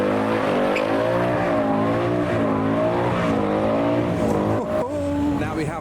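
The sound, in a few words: Mustang car doing a burnout off the line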